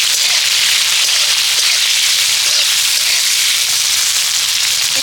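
Chopped tomatoes frying in hot oil in a pan, a loud, dense and steady sizzle with crackling spatter that continues throughout with no voices.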